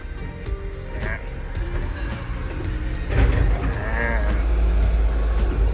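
A Komatsu PC138US-8 12-ton excavator engine idles at its lowest rpm with a low, steady rumble that swells slightly partway through, while someone talks over it.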